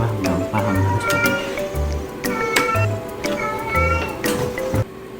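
A cat gives a series of short, fairly loud meows, four or five in a row, with people talking at the same time.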